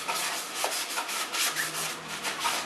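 A paper towel rubs over a painted MDF box to lift sanding dust, producing a steady, close, dry scuffing with rhythmic strokes about twice per second and no talking.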